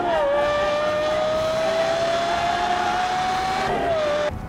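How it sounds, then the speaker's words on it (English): A Lexus LFA's 4.8-litre V10 in Gran Turismo 7 holds a high, smooth wail at steady revs, then the pitch dips briefly near the end before the sound cuts off. "That's what the LFA sounds like."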